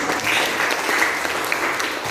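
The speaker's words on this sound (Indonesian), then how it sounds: "Kasih tepuk tangan" Audience applause in an Indonesian classroom teaching session, a soft, steady patter of clapping heard from a distance for about two seconds with a faint voice or two underneath.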